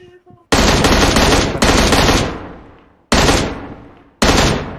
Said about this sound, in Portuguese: olha o som dos tiros, velho